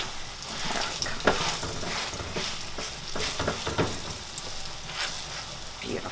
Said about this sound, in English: of oil and very gently, okay, move it in our skillet.